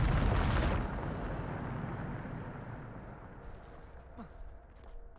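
A Bombarda spell explodes in Hogwarts Legacy, a loud broadband blast at the start that settles into a long rumbling decay, with a faint swooshing tail and small debris-like crackles near the end.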